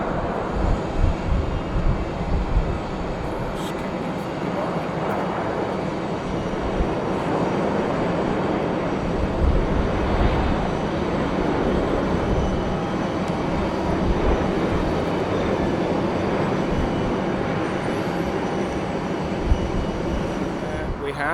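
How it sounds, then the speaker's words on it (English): British Airways A380 airliner on approach to Heathrow Airport, a broad continuous roar of jet engines rumbling over the whole stretch, heard from a spotting point with people talking under it. "We have what seems to be just hanging in the sky is the British Airways A380 coming in from Washington."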